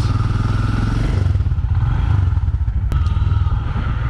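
A motorcycle engine runs steadily and loudly up close outside a home in Mumbai as the rider sets off, with a deep continuous throb and a brief sharp clatter near the end.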